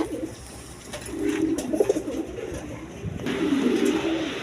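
Lahori pigeons, a big-sized pair for sale, coo in low repeated murmuring phrases, close and fairly clear, with a brief quieter gap before the cooing swells again.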